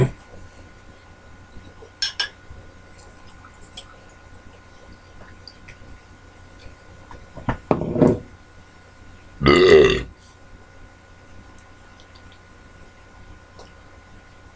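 One long, loud, close burp after drinking Natural Ice beer (5.9% alcohol) follows a shorter throaty sound, amid a quiet room with light clinks of glass or cutlery.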